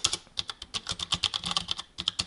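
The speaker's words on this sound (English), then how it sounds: "my screen as I randomly clack keys," Rapid, uneven keystrokes clack on a big, loud mechanical-style computer keyboard as keys are pressed at random, close up with no voices.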